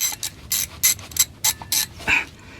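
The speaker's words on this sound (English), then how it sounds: "And now I can get back to the ratchet." A hand ratchet working on a bolt on a Mercedes 4MATIC transfer case, a series of short, sharp clicking bursts at close range with brief pauses between strokes and no talking.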